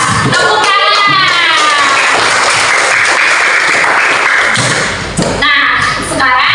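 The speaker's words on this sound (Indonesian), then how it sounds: "tepuk tangan" Group of schoolchildren in an elementary classroom clapping their hands together, a loud, dense burst of applause mixed with excited young voices and chatter, easing slightly toward the end.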